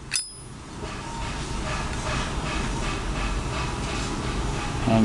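A brass Zippo-style American lighter flicks open and strikes at the start with one sharp metallic snap, then a steady soft hiss and rustle of the flame and handling noise carry on close to the mic.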